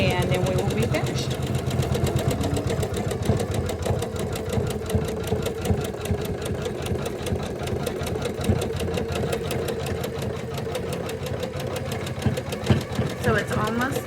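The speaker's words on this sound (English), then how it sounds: "now we're just going to embroider the rest of the name" A Janome 500E embroidery machine stitches a name onto a sweatshirt, giving a steady, fast mechanical whir and needle chatter that runs continuously throughout at moderate level.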